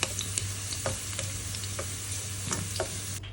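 Carrots and potatoes fry in hot oil with a constant close sizzle and a few light scraping stirs, with no talking.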